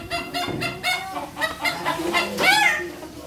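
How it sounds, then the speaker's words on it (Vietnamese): Chickens raised from young birds to fighting age in a cramped 6-square-decimetre coop, clucking in a run of short, close, repeated calls that rise into a louder squawk near the end. "gà nó rất bình thường."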